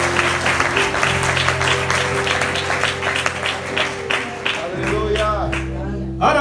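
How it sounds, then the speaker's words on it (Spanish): A church congregation claps loudly and steadily, a dense mass of overlapping handclaps over a sustained organ or keyboard chord, with a preacher's voice talking over it near the end. "Es un aplauso fuerte."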